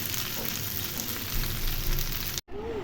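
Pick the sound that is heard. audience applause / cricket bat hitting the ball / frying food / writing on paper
frying food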